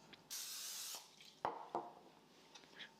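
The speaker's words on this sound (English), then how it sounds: "So let me spray my bowl." A steady hissing spray from an aerosol cooking spray can into a bowl, lasting under a second, followed by a couple of sharp knocks and faint rustling.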